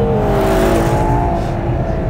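A Ferrari Purosangue SUV's V12 engine revs loudly and continuously at close range, a rich sustained howl with steady pitch that rises slightly and then eases, with no voices over it.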